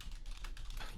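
Quick bursts of computer keyboard typing, a short run of close, crisp key clicks lasting about a second.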